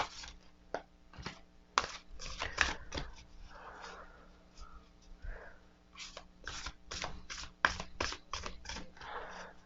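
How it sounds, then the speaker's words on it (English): Close, papery rustles and quick flicks of Animal Kin oracle cards being shuffled, in irregular bursts with short pauses, and no voices. "I try my best when it comes to shuffling to shuffle as good as possible."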